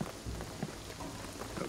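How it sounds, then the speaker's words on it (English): Steady rain pours in the action game Shadow of the Tomb Raider, a dense, continuous hiss of falling water with low rumbling underneath, fairly loud and with no voices over it. "the rain is gonna flood this"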